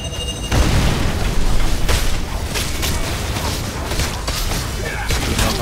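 Bomb blast in the online RPG God Slayer Online during a five-player dungeon run, a loud boom followed by dense, continuous crackling combat effects with a voice talking over it.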